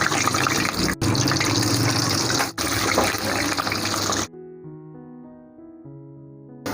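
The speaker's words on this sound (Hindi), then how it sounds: "ये देखें नाज़रीन, माशाल्लाह कितने ज़बरदस्त फ्राई हो रहे हैं स्प्रिंग रोल।" Spring rolls sizzle steadily in hot oil, a dense continuous crackle and hiss that cuts off abruptly partway through, leaving a quiet tonal music bed.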